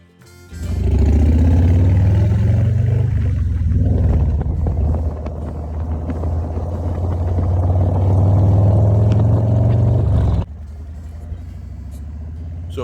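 A motorcycle rides on a foggy highway toward Reading, Pennsylvania, giving a steady, loud, low rumble of engine and road noise that holds for about ten seconds before dropping away abruptly.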